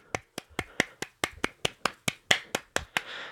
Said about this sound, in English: applaud for all of you